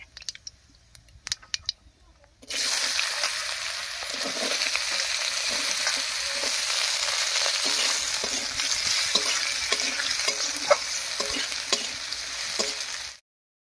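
Small diced potatoes dropped into a wok over a tempering of dried red chilli and whole cumin, hitting the hot oil with a sudden loud sizzle that settles into steady frying with light stirring scrapes and no talk.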